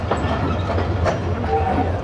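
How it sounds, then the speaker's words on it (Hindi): Rehman Baba Express on the Peshawar to Karachi run rolling past, a steady low rumble of wheels and carriages with repeated rhythmic clunks, loud and close, with faint squeals above. "अब आ रही है 48 डाउन रहमान बाबा एक्सप्रेस, पेशावर से कराची चलने वाली"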